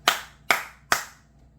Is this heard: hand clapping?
yes